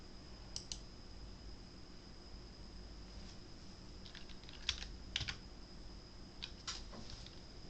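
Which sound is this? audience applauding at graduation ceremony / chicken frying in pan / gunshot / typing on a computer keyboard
typing on a computer keyboard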